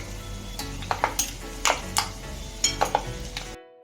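Snack mixture stirs and fries in a hot pan for a Gujarati panipuri-flavoured snack, giving a steady close sizzle broken by repeated scraping strokes of a spoon against the pan, then sudden silence at the end.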